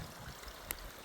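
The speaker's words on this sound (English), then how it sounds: "It's got a little creek that runs alongside of it" A small creek runs alongside a mountain route in the South Monongahela Mountains. Its steady flow sounds faint and distant, with one brief click partway through and no voices.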